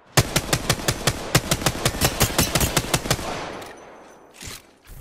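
Rapid automatic gunfire in Apex Legends, a fast burst of sharp close shots in steady rhythm for about three and a half seconds, then a lull and one fainter thud.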